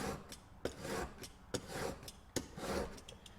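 Single bevel VPA broadhead drawn across a rough grit sharpening stone, a run of rhythmic gritty rasping strokes with sharp scrapes roughly every second, close and fairly quiet.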